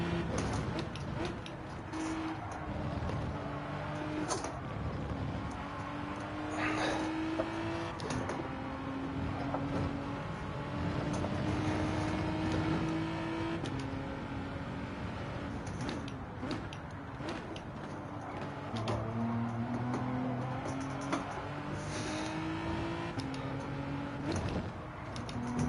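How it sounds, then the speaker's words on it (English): Ford Mondeo touring car engine in Gran Turismo 7, racing flat out at Spa, holding a sustained buzzing drone that climbs in pitch through repeated gear changes, moderately quiet with faint mechanical ticks throughout. "In the Ford Mondeo. Flat out through the Camel Straight."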